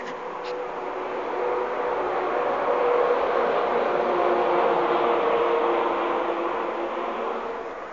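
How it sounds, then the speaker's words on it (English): A train rumbles past steadily, its broad roaring noise swelling and holding for several seconds with no talking. "Oh, here comes the train."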